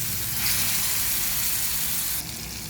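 Onion chutney hits hot tempering of oil and turmeric with a loud, close, continuous sizzle and frying hiss that eases slightly near the end.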